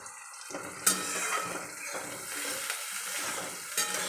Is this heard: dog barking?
no